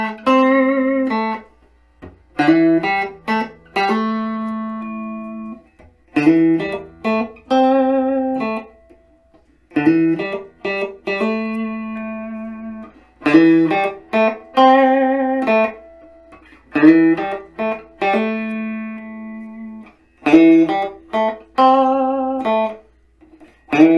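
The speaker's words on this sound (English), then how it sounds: "And just the bridge pickup. We'll go through some individual notes." Tease ST-1 SPR electric guitar played clean on the bridge pickup, picking individual notes in short bright phrases with clear gaps of silence between groups, ringing tones decaying quickly, nothing else in the background.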